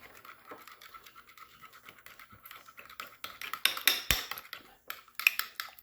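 A spoon scrapes and clinks against a bowl while fish taco sauce is mixed, light irregular stirring strokes that grow louder and busier toward the end, close up and without speech.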